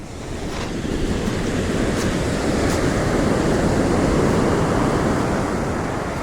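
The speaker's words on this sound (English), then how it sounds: "I expect much more noise coming from all those waves from over here" Ocean waves break along the shore at Hualien, Taiwan, a steady, loud wash of surf that swells and holds without pause, with wind buffeting the microphone throughout.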